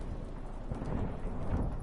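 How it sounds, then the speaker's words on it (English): Thunderstorm at sea in The Witcher 3, a steady low rumble of thunder blended with a dense wash of rain, loud and continuous throughout with no talking. "Didn't bargain for no storm."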